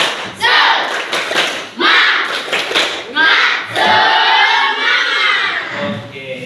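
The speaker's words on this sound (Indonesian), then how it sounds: "kita tepuk semangat dulu biar semakin semangat" A group of participants in a classroom session does a rhythmic "tepuk semangat" spirit-clap cheer, with bursts of patterned clapping mixed with shouted chant and children's voices, loud and close.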